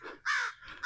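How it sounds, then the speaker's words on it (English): A crow caws loudly twice in quick succession, harsh and close, with no talking around it. "not sure if you could hear that bird going crazy"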